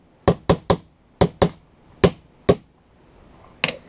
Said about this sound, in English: I turned it over and I just hammered it